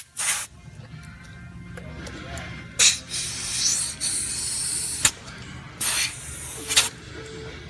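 Air hisses from a car tire valve as a pressure gauge is pressed onto it, giving several short bursts of spray-like hiss between quieter stretches of handling noise.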